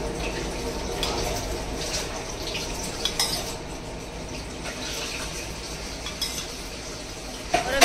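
Tadka tempering is poured over cut dhokla in a kitchen, giving a soft continuous sizzle and drizzle with light clinks of a spoon and dish, fairly quiet and close.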